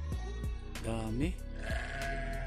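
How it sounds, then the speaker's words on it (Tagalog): Several sheep bleat on a farm, close and loud, calls overlapping in quick succession with wavering cries while a person speaks in between. "Yan ang mga tupa."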